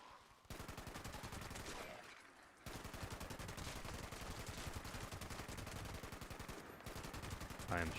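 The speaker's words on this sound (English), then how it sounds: "I am shooting a fence post." Rapid video game gunfire aimed at a fence post during farming, a sustained automatic burst that pauses briefly and then resumes, loud and close.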